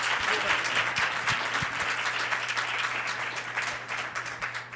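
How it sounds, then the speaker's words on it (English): Sustained applause from a conference audience honoring a patient advocate, dense steady clapping filling the hall at close range with a faint hum beneath and a few voices mixed in. "Give her a round of applause."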